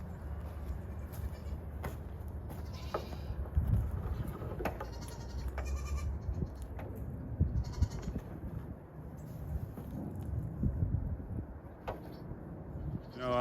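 Goats bleating in a barn on a farm, several scattered calls near and far over a low background of shuffling and rustling, with occasional thumps like a door.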